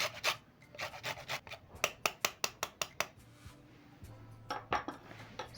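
Lemon peel scraped against a grater for zest, a series of quick rasping strokes that come in a steady burst near the middle, then fainter scrapes around them, close up with no talking.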